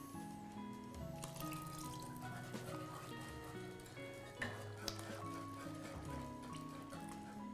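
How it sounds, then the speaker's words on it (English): Water poured into a pan of gravy for country fried tofu, a quiet continuous liquid trickle and faint sizzle with a few small clinks of utensils against the pan. "I'm gonna add the rest of the water."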